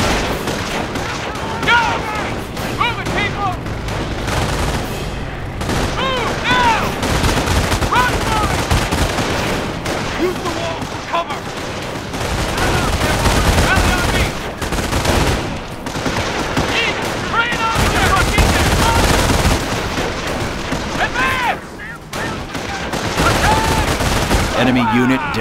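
Dense gunfire in the World War II strategy game Company of Heroes: rattling machine-gun bursts and rifle shots with booming impacts, loud and continuous, with voices calling out between the volleys.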